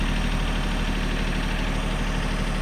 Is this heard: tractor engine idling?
yes